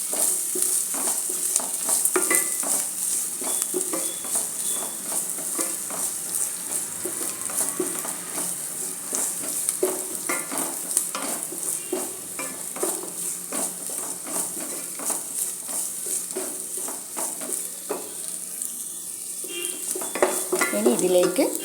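Aval uppumavu (flattened rice upma) being stirred in a pan with three chopped green chillies, a steady light sizzle with repeated scraping and clinking of a spoon against the metal pan, close and continuous, no voices.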